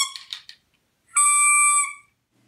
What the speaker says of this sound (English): The Trumpet and Clacking Cage feature a mouthpiece whistle for real tootin' sounds.